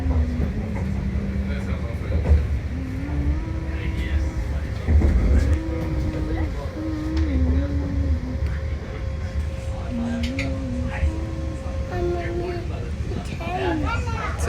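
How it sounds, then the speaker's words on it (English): A train rumbles by in Copenhagen with steady low mechanical noise and rhythmic rattling, while a child and an adult talk over it throughout. "It's a train."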